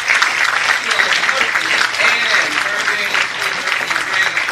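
Audience applause at a 2013 health disparities event honoring nurses, a steady, full round of many hands clapping that holds evenly throughout, with faint talk mixed in.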